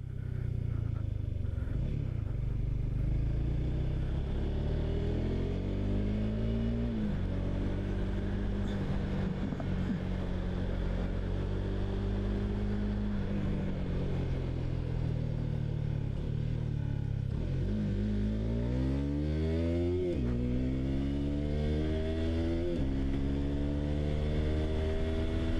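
A Honda CBR150R 2021 150cc motorcycle rides a test track, its engine droning loud and steady with rising and falling revs as it accelerates through gears and eases into corners.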